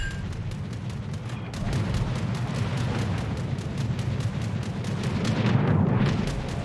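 Warship turrets firing in a naval video game aboard the French battleship Bourgogne, with a deep rolling boom and rumble that swells and lingers over several seconds of steady low battle noise.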